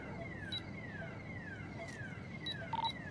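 A car alarm in the GTA game during a NoPixel roleplay roofing job, a repeating falling electronic whoop cycling steadily at moderate loudness, with a few short high beeps layered over it.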